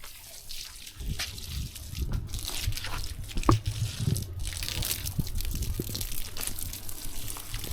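Garden watering with water running and trickling steadily throughout, a soft continuous splashing with occasional drips and louder bursts, heard without talk.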